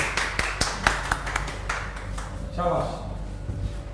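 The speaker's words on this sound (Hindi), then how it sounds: "ताली मारेंगे भाई" Students in an online class interview clap for a classmate, with sparse, uneven hand claps scattered over a few seconds, mixed with a brief voice and a ringing tone partway through.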